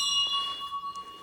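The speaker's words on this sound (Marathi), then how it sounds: "घंटी वाजव." A temple bell rings once, its bright metallic tone sustaining and slowly fading over a second or so, heard close and clear with little else around it.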